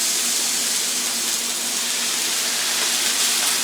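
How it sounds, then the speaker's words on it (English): Onions and hash browns sizzle on a grill, giving a steady, dense hiss that stays loud and even throughout with no talk. "the onions, I can hear them sizzling"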